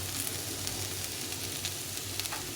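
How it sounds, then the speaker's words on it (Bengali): Eggplant and potato sizzle steadily in a pan with salt, turmeric and cumin, a dense, even crackle of frying that runs close and unbroken with no voices. "বেগুন আর আলুটা ভেজে নিচ্ছি সুন্দর করে ভেজে নিতে হবে"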